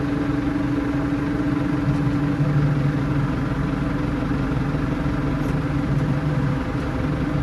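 A tractor fitted with a KUN General X front loader runs steadily nearby while handling wheat seed, its engine a continuous, even low rumble with a droning hum and no pauses.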